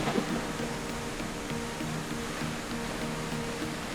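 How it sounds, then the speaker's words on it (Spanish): A waterfall pours inside the Crystal Grotto cave at Molinos, Teruel, where two ravines meet, giving a dense, even roar that fills the space without pause. "Mirad qué espectáculo, donde se encuentra una cascada"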